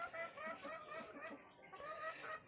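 Pet chickens being fed saba banana cluck in a rapid, repeated chorus. The sound is faint and low in level, with no voices heard.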